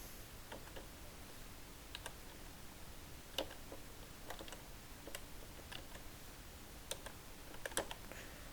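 An email address typed on a computer keyboard, soft scattered clicks of keys at an uneven pace over faint background hiss, quiet and close, no voice.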